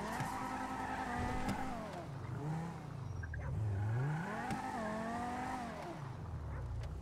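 A car in the video game Grand Theft Auto V drives along, its engine rising and falling through revs with brief tire squeals, loud and continuous.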